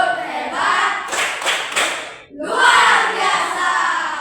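Children in a classroom clap together in two bursts of brisk rhythmic applause, loud and close, with a brief pause between them.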